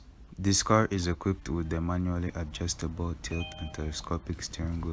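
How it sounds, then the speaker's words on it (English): A 2020 Kia Sorento gives off soft electronic chimes as its tilt-and-telescopic steering wheel is adjusted by hand. The chimes are faint and sit under someone speaking steadily close up. "as I adjust the steering wheel you can hear some chimes in the background"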